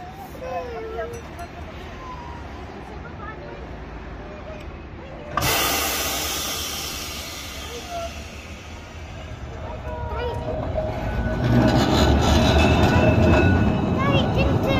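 A Blackpool heritage tram pulls away with a sudden hiss, then a rising rumble and rattle of wheels as it moves off, with people talking over it.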